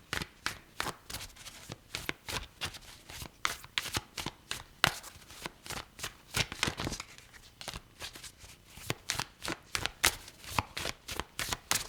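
Tarot cards shuffled continuously at close range, a rapid run of crisp riffling snaps and flutters with short pauses between bursts, no voices.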